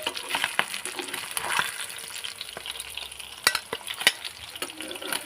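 Pabda fish frying in oil in a pan, a soft, steady sizzle broken by scraping stirs and a few sharp clinks of a utensil, close and clear, with no talk.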